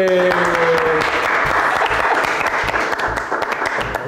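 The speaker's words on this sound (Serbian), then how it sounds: "morate da aplodirate" Camera crew clapping for a quiz winner in a studio, a dense, close burst of applause that fills the whole stretch with steady, overlapping claps.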